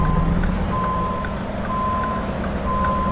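A truck backing up with a trailer in Euro Truck Simulator 2 gives a steady series of evenly spaced reversing beeps over a low, continuous engine rumble.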